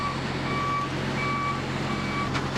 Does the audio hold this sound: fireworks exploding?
no